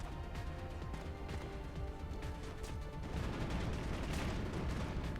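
Gunfire from a Mass Effect battle: a dense, continuous stretch of rapid shots and impacts at moderate distance, growing busier and louder toward the end with no clear speech.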